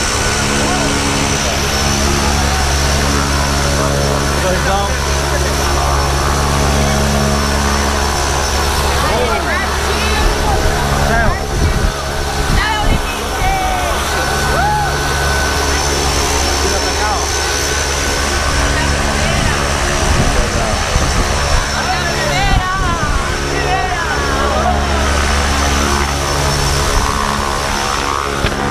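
Propeller engine of a skydiving jump plane drones loudly and steadily throughout from inside the cabin, a dense continuous roar with voices talking over it.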